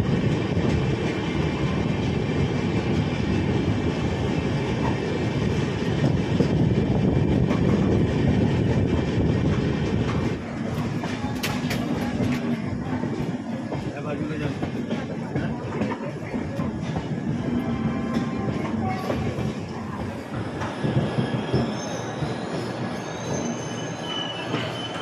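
The 12834 Howrah–Ahmedabad SF Express runs at speed, heard close from on board as a continuous loud rumble with wheels squealing against the rails and occasional clatter throughout.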